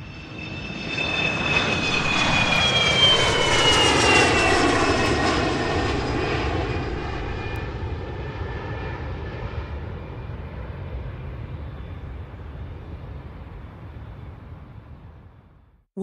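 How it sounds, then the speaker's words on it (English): A fixed-wing airliner landing in San Juan, Puerto Rico, its engine roar swelling loudly with a sweeping whine before slowly fading away. "now landing San Juan, Puerto Rico."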